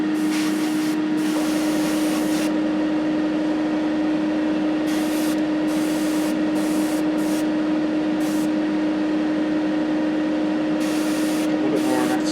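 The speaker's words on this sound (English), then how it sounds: "You can also blow it around with the airbrush" An airbrush sprays paint onto 1/48 scale Airfix Messerschmitt Bf 109E model parts, a continuous close hiss with a steady compressor hum underneath and brief bursts of stronger airflow.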